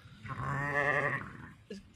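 A ewe in a lambing shed gives one long, wavering bleat that swells and fades, followed by a brief softer call, heard fairly close with no talk.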